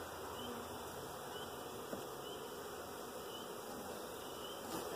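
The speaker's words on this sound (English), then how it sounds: "We got bees. We got a lot of bees." Package honeybees being installed in a new hive make a faint, continuous buzzing drone that stays steady throughout, with no voices.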